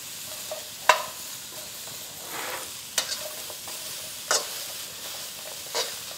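Food stir fries in a pan, a soft continuous sizzle under repeated scraping stirs and a few sharp clacks of a utensil against the pan, close and moderate with no talking.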